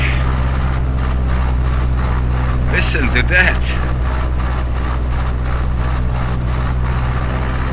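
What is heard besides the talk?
Cessna 152 engine magneto check in Microsoft Flight Simulator video game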